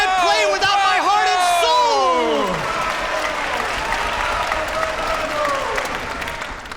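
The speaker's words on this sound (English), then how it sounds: "the impatient audience roared with applause" Concert audience roaring with applause, a swelling wash of clapping and cheering that stays loud and steady, with a voice calling out and speaking over the start before the crowd noise carries on alone.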